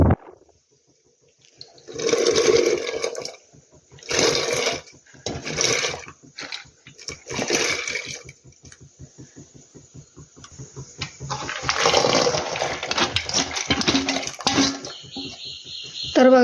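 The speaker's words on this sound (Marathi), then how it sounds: "तर आता उकळत्या पाण्यामध्ये हे डाळ टाकून घेऊया।" Chana dal is tipped into boiling water in a pressure cooker in several separate bursts of splashing and pouring, with soft metallic clinks between the pours.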